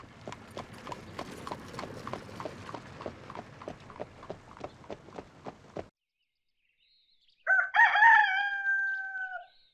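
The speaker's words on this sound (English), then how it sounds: "The roosters were crowing." A rooster crows once, loud and drawn out, after a steady run of hoof clip-clops that falls silent.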